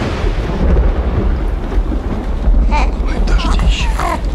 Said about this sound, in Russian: Ой, дождище.